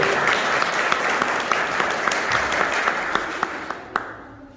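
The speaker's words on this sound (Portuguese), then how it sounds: "Vocês podem dar uma salva de palmas aos nossos visitores também?" A church congregation applauds visiting guests during a recorded worship service, steady dense clapping with a few distinct sharp claps standing out, fading away at the end.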